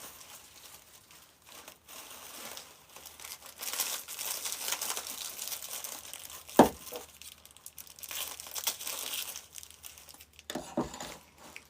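Thin plastic sleeve around a bunch of shipped flowers crinkled and torn by hand, a steady dense crackle building over several seconds with one sharp snap midway and a final burst of rustling near the end, no talk.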